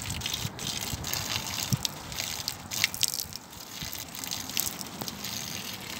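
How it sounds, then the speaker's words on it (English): Alcohol is poured down a street gutter in a steady, fairly faint gushing trickle with occasional drips and splashes, heard alone outdoors. "So you pour it down the gutter."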